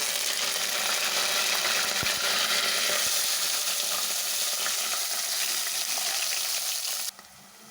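Curry leaves and onion pieces fry in hot oil over a medium flame, making a dense, even, close sizzle that runs steadily and then drops away abruptly near the end.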